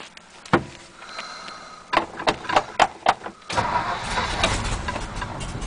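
A 1954 Ford Mainline's engine cold start: a lone click, then a string of loud sharp cranking bursts before the engine catches and settles into a steady, rough idle, close up.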